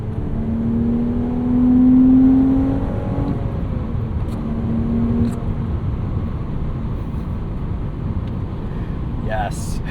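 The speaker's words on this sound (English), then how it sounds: "the feeling these Porsches give you, the long gears, it's just so fun to rev them out." A 2011 Porsche Cayman 987.2 Base with a six-speed manual; the engine note climbs and holds as a steady, moderately loud drone over continuous road and cabin noise, then eases off.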